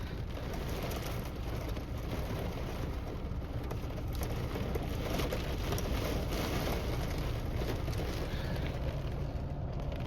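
Steady, dense rain drumming on a car and its surroundings during a thunderstorm, a constant close wash of patter with no voices.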